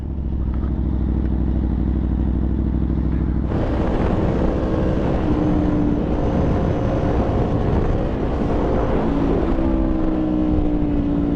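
An Aprilia Tuono V4 motorcycle engine runs while riding, loud and close, a steady droning idle that opens up into rising revs and shifting engine tones, with wind noise.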